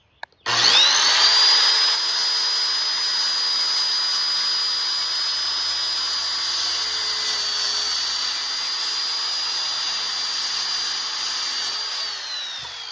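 A power saw cuts through wood in one steady, loud, close whine that runs for about twelve seconds after starting abruptly, with no talking over it.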